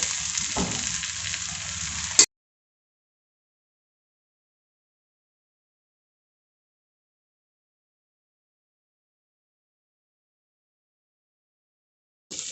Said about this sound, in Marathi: खिचडी अगोदर फुल गॅसवरती अशी परतून घ्यायची।